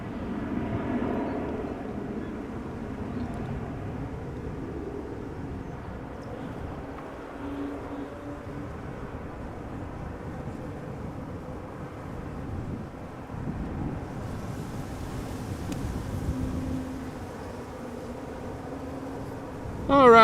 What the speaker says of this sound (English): another Embraer 190 taking off to Bilbao